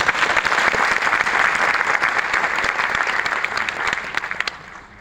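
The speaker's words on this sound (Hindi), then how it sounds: "हम जोरदार तालियां बजाएंगे" An audience in an auditorium claps hard and steadily, the dense applause holding strong before tapering off at the very end.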